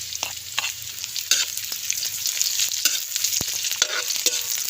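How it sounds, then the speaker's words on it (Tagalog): Onions go into a hot pan of ginger and garlic outdoors for beef papaitan, bringing a steady loud sizzle close by, with scraping stirs and a few sharp utensil clicks, and no talking. "Ilagay na natin yung ating sibuyas."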